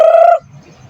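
A single loud, close bird call from a chicken at a rural provincial home, a short tonal squawk lasting under half a second before quiet follows.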